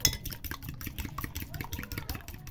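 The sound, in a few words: beating eggs with salt and pepper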